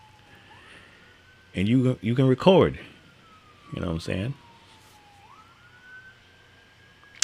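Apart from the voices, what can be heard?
sirens of emergency vehicles rushing to the expressway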